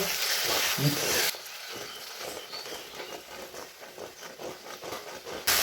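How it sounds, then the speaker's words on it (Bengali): A ground spice paste with water is stirred in a pan while cooking a potato and egg curry, giving a steady wet scraping and sizzling patter that continues alone after an initial louder burst. "ভালো করে মশলাটা মিশিয়ে নেব"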